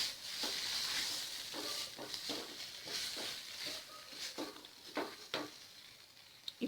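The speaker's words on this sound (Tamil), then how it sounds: "இது நல்லா கலந்து விட்டுக்கலாம்." A spoon stirs paneer gravy masala sizzling in a pan, giving steady soft frying hiss with repeated scraping strokes, close and moderately quiet.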